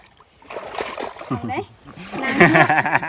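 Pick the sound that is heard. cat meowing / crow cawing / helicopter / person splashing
person splashing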